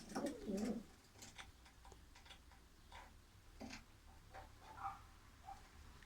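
Soft, low cooing of young racing pigeons in a quiet space, a few murmured calls with faint ticking and rustling in the background.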